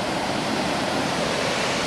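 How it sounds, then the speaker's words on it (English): Ocean waves wash up on a California shore in a steady, loud, close rush of surf and foam with no break. "the waves are sneaking up on me this morning"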